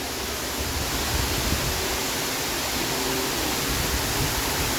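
Water pours continuously from the waterfall behind the Hyatt Regency in Waikiki, a close, steady rushing hiss that stays even throughout without any speech.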